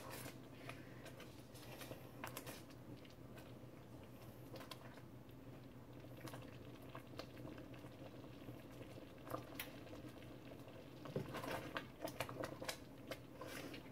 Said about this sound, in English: we're at a point where I cannot stir it enough to keep the boil down